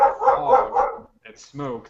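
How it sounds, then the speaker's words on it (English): A neighbor's dog gives a few short, close barks right after a stretch of a voice. The barks come in a brief cluster near the end, with a quiet gap before them. "That's my neighbor's dog."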